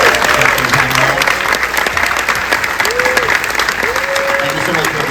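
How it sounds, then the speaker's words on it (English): Applause from an audience after a documentary Q&A screening, a steady wash of clapping heard at close range, with people talking over it throughout. "Let's give them one more round of applause."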